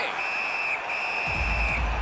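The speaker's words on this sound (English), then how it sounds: "And he holds on, and the whistle stops play." A referee's whistle blows in a sustained shrill tone to halt play at a Saskatchewan hockey game, over arena crowd noise, followed by a low thump and rising crowd sound.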